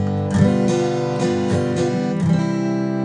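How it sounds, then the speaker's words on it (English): A single guitar chord, a dominant seventh in open position, rings out close and clear and is strummed again about four times in an even rhythm, each new strum cutting over the sustain of the last, with no talking. "Here's my dominant seventh."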